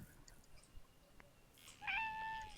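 A cartoonish cat meow from the fishing video game Webfishing rings out clearly near the end, a single drawn-out tonal call that stands out over a quiet background.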